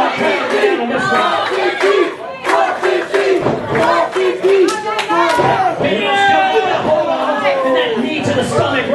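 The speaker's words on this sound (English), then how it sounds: "this crowd is rallying firmly on behind 450" A wrestling crowd at a heavyweight title match roars, cheers and chants continuously, loud and dense, with scattered clapping mixed in throughout.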